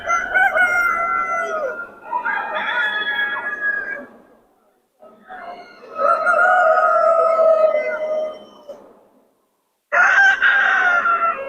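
An Australorp rooster crows loudly several times in long, drawn-out calls separated by short pauses, close by and clear.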